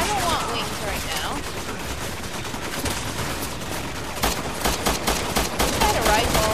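Rapid gunfire bursts and fusillades from Resident Evil 6 gameplay, a dense loud barrage filling the clip with overlapping shots and game sounds.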